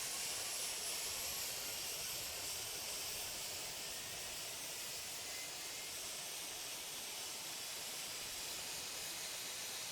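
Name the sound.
airliner jet engines in Tower Simulator 3 video game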